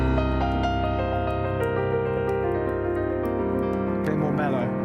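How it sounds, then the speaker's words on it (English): A Bechstein piano plays sustained chords whose rich, mellow tones ring steadily and evenly for several seconds. "Yeah, so that's the sound of the Bechstein."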